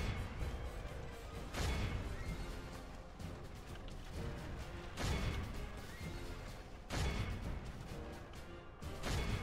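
Horses neigh and whinny amid crashing clashes during a cavalry charge in a Total War strategy game set in the Last Kingdom era, with loud recurring waves of battle din.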